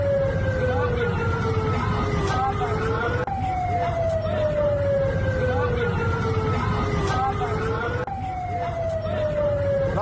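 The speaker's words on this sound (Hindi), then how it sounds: "रात के अंधेरे में सायरन की आवाज बजती रही" Sirens wail at night during bombardment in the Afghanistan–Pakistan conflict, a loud, steady warning tone rising and falling in repeated slow cycles over constant background noise.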